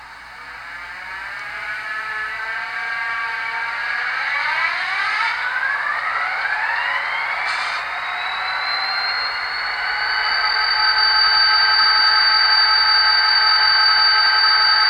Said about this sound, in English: So I'm going to type in 9645 on my Digitrack Zephyr Extra system and fire up the locomotive via function 8.